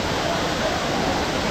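Kiliyur waterfall in Yercaud pours in a steady, dense roar of falling water, continuous and fairly close with no other sounds standing out.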